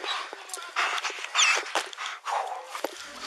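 A police K-9 dog whimpers, whines and gives short excited yelps up close, with scuffling movement and panting mixed in.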